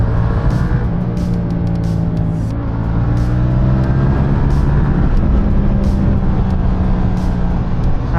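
A 2017 Yamaha MT-07 motorcycle roars loudly and continuously during a test ride, its engine pitch climbing and dipping as it accelerates along a straight, with heavy wind noise and no talking.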